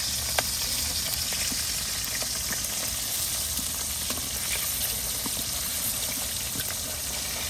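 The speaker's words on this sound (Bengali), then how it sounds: "এই যে মাছের এক পিঠ হয়ে গেছে, এখন আমি উল্টাই দিব" A native koi fish fries in a pan with steady, close sizzling and scattered small crackles of hot oil throughout, with no voices.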